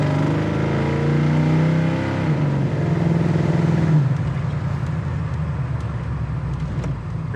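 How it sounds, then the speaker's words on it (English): A 1974 Chevy Camaro with a numbers-matching 350 V8 and dual exhaust idles and revs steadily. The engine is loud and close, with a pitch change partway through and no talking. "really nice sound and dual exhaust"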